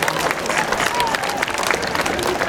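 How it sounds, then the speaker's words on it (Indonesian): Crowd applause for regional leaders at the opening ceremony of a regional student sports week in East Nusa Tenggara, a continuous wash of clapping mixed with crowd murmur. "Tepuk tangan dulu buat semua pimpinan daerah yang hadir ini."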